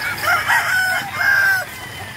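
Young stag roosters, grey gamefowl, crow loudly and close by, two strained, reedy calls in quick succession, the second cut short.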